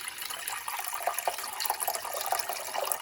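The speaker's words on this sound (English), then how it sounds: "And pour enough water, like more than 6 times the amount of boba" Water runs steadily into a pot for boiling boba, a continuous splashing pour with bright bubbling and a few louder splashes, close by and without voices.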